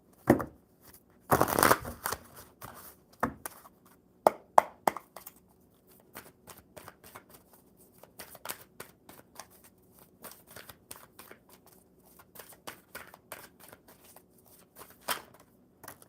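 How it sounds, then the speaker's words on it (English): Tarot cards shuffled by hand in a series of soft riffles and slides, a dense burst early on followed by lighter intermittent flicks and taps, close and fairly quiet with no talking. "One more good shuffle."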